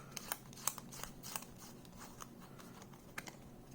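Quick papery riffles and soft flicking bursts of a deck of cards for the Tin Helm dungeon-crawl card game being shuffled, close by and quiet, in short irregular clusters.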